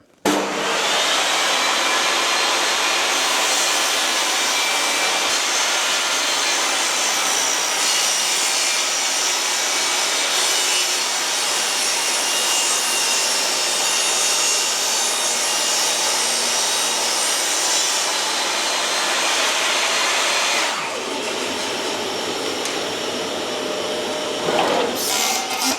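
Skil 1340AA table saw cutting 15 mm plywood: a loud, steady motor whine with broadband cutting noise held for about twenty seconds, then the blade spinning down, alone without talk.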